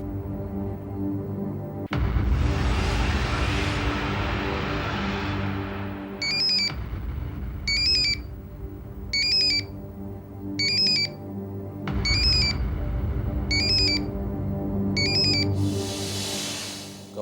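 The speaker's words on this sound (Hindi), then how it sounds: "घंटी आपके मोबाइल पर बज रही" A mobile phone rings with a repeated electronic ringtone, short bright bursts recurring about every second and a half over a steady background score with swelling music.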